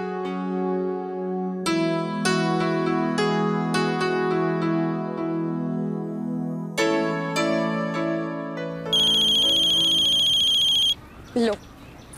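A phone rings with an incoming call in a Hindi TV drama household scene: a melodic electronic ringtone plays repeatedly in clear, loud bursts with bright tonal notes, then a higher beeping tone before it cuts off.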